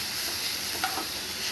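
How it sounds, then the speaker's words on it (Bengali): Carrots, onion and grated ginger sizzle in a hot pan while being stirred, a continuous close frying hiss with a brief scrape of the spoon midway. "নাড়াচাড়া করে একটু ভাজা ভাজা করে নেব"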